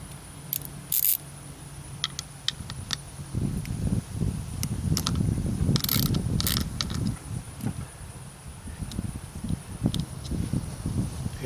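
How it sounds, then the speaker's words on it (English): A nut is worked off the back of an Evinrude outboard reed assembly with metallic clinks and taps, then busier close rattling and scraping of small parts and tools. "we're going to remove this nut off the back."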